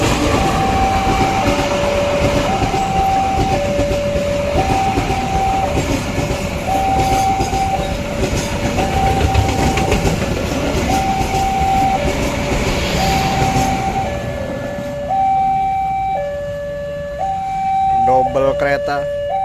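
A train rolls past a railway level crossing at JPL 205A in Kesambi, Cirebon, loud and close. A rumbling rush of wagons runs under a repeating two-tone crossing bell, with horn blasts near the end and a voice speaking.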